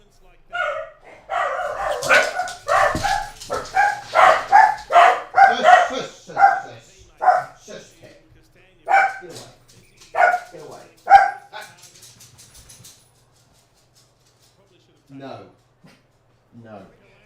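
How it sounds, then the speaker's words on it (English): Several house dogs bark frantically at a front window, a rapid run of loud, close barks that thins into scattered yips and fades into quiet near the end. "Sorry about the random barking."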